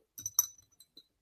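An amber pressed-glass sun catcher clinks against its original looped copper holder, a few faint, bright ticks and short rattles close by, with no talking.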